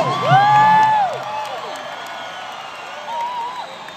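A packed concert crowd in a large auditorium cheers and whoops, loudest at the start before settling into scattered shouts and applause, with a voice briefly audible over it.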